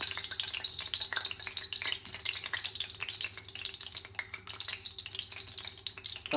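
Pure ghee and oil sizzle steadily in a hot pan while an Indian Bangladeshi Sylheti chicken garlic dish gets under way, a dense continuous crackle close by with clicks of stirring and no talk.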